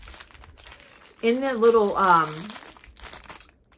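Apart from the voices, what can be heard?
crinkling plastic wrap paper in a package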